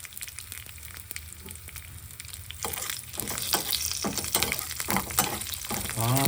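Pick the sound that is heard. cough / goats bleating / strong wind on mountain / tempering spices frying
tempering spices frying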